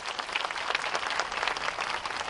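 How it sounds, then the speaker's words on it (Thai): Applause from a seated audience at a Bangkok governor candidates' debate, a steady wash of clapping heard alone and fairly faint over the short stretch. "ขอเสียงปรบมือด้วยค่ะ"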